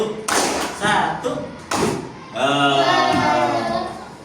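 Pupils in a classroom play a counting clap game, striking a few loud, sharp group claps in short bursts, then their voices rise together in a sustained chant.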